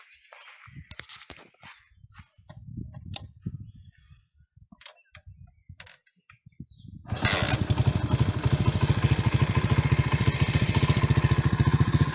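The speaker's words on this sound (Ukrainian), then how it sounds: "Зараз я ще заведу, покажу, що до чого, як він робить." A Delta moped engine is kicked over after some shuffling and handling noises, then catches and settles into a steady, fairly loud, buzzing idle that continues to the end.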